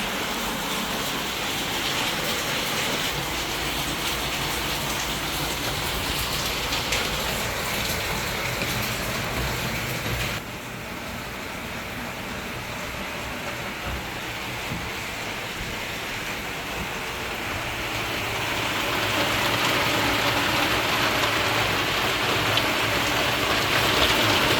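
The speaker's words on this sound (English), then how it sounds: "the ASMR of sleeping in this cabin when it was raining was amazing" Rain falls on a cabin in Brazil as a dense, continuous hiss and patter, loud and steady, easing slightly midway and then swelling heavier toward the end.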